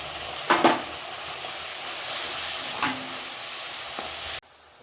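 Capsicum and tomatoes sauté in a pan, a continuous close hiss of frying with a few louder spatters and a clink of a utensil, ending abruptly as the sizzle cuts off near the close.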